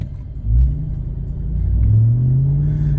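Ram TRX pickup truck in regular drive mode, its engine and exhaust giving a deep, steady rumble that swells twice as the throttle rises, close and continuous with no talking.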